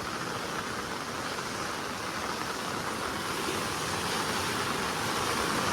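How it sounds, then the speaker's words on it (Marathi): Heavy monsoon rain in Konkan has swollen a river into flood, its water rushing in a steady, loud broadband roar with no breaks and no voices. "जबरदस्त असं पाणी आलेलं आहे नदीला"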